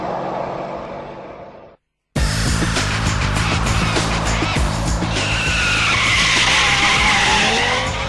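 A standard Subaru WRX press car launches down a drag strip, its engine loud and close with tire squeal and rising revs after a brief silence, holding a strong roar to the end.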